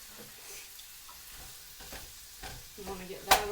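A pound of sausage breaks apart and browns in a hot pan, with a soft steady sizzle and occasional scraping stirs building to a sharper clatter near the end.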